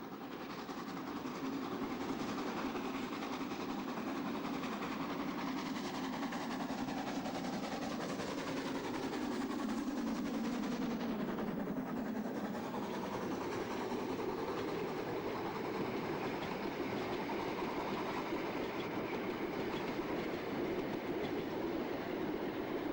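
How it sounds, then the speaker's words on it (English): Narrow gauge 210-2 steam tank locomotives storm past hauling packed trains, a loud, steady rumble of wheels and rail clatter close by that swells and fades slightly as the carriages roll through, with no talk. "right next to the storming 210-2 tanks and their packed trains"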